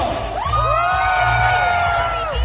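A crowd cheers and shouts loudly, voices rising and sustained in excited whoops for a couple of seconds.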